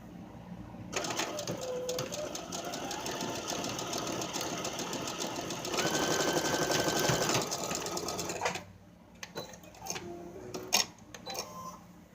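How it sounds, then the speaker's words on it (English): A sewing machine stitches the hem of a robe in a long steady run with a mechanical whir that shifts pitch partway through, then stops and gives way to a few scattered clicks and handling noises, close by, with no talking. "I've already started sewing it"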